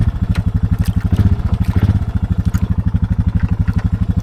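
A Honda Foreman ATV engine in two-wheel drive runs close and loud, thumping in a fast, steady rhythm with slight mechanical clatter.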